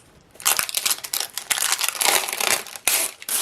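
Crinkly plastic shrink wrap being torn and peeled off a canvas, a dense run of loud crackling and rustling bursts with brief pauses, close up and without speech.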